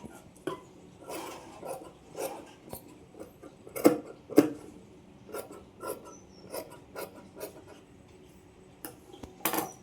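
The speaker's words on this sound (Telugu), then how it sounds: "ఈ ఎక్స్ట్రా క్లాత్ని అయితే కట్ చేసుకోవాలి" Scissors trim excess lining cloth during tailoring, giving close, crisp snips and metallic clicks at an uneven pace, a few louder cuts standing out against quiet room tone, with no speech.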